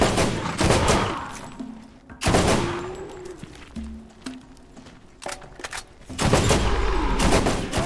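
Loud, dense bursts of video game gunfire from Borderlands, a run of rapid shots in several clusters with short pauses between, alone and close.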